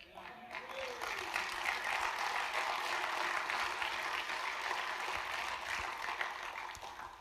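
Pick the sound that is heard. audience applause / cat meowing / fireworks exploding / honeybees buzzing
audience applause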